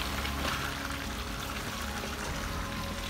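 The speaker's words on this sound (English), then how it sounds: "if you feel any need to add in some more water, you add" Water is poured into a pot of egusi soup with vegetables, a steady close-up rushing trickle that runs continuously without pause.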